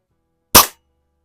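A single sharp crack from a century-old Eisenwerke Gem No.13 air rifle fired in a garage, close and loud with a short decay and silence around it.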